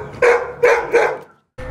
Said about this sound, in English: They both go out looking, then Mikey starts barking and runs off.